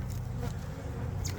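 Dense, steady buzzing of honey bees crowding a brood frame lifted from a single-deep hive, close and continuous throughout with no talking.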